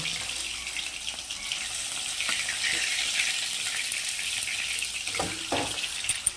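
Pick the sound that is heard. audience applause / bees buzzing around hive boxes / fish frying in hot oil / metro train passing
fish frying in hot oil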